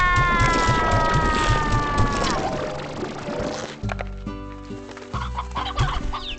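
Chickens cluck repeatedly on a farm in the video game Slime Rancher, in short rhythmic bursts mixed with a sustained electronic game tone that slides down in pitch, followed by layered synthetic game music.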